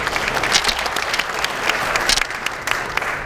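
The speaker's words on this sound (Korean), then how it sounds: "박수 한번 치십시오" A packed party meeting bursts into loud, sustained applause, a dense wash of many clapping hands close by without letup.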